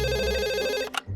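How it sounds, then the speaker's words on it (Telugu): A cartoon telephone rings with a sustained electronic ringtone that cuts off sharply after about a second, followed by a brief click. "మళ్ళీ ఫోన్ రింగ్ అవుతుంది."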